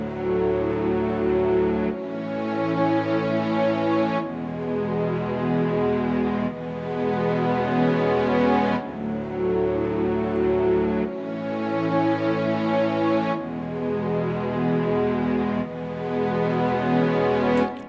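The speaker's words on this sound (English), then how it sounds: "it's a string. I think it's the FL string" Sustained synthesized string chords from an FL Studio string preset, changing roughly every two seconds in a steady sequence, full and evenly loud throughout with no talking.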